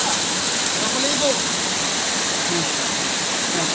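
Waterfall in the outdoors, a constant broadband rush of falling water, loud and even throughout, with faint voices mixed under the roar.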